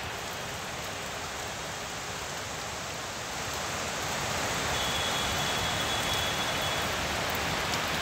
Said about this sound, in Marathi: ठाणे मुंबईच्या अनेक भागांमध्ये आता जोरदार पावसाला सुरुवात झालेली आहे